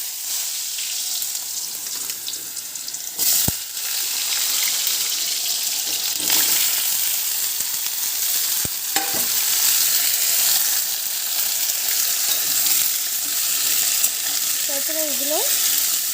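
Chopped potatoes and pumpkin frying in a pan with dried chillies and bay leaves, a continuous close hiss of hot oil with occasional sharp clicks and faint voices near the end.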